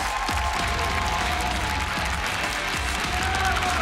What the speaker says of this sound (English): Look at him hype up the crowd as everybody goes crazy